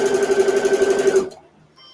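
A sewing machine runs a fast, steady stitching burst through fabric for a microwave potato bag, loud and close, then stops abruptly, leaving near silence with a faint click.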